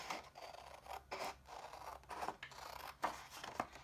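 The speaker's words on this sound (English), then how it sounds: "get your scissors and you're going to cut it out." Scissors cut paper tangram shapes in a run of close, quiet, rhythmic snips and scraping slides of the blades, with no talking over them.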